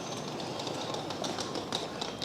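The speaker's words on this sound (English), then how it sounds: "So here we are, the doors have opened." Continuous rumbling railway noise with rhythmic metallic clatter, a train arriving at Blackpool North station nearby at moderate volume.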